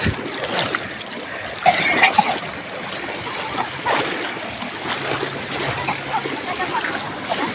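Strong river current rushing and splashing in a steady broadband wash with brief louder splashes, heard close up and continuous across the clip.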